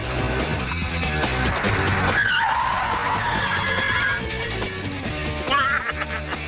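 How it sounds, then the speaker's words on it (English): Car tires skid and squeal under hard braking from 50 mph in an automatic car on a test track, a loud, sustained screech with engine noise underneath that fades as the car stops. "First up is the regular braking distance on the automatic. At 50."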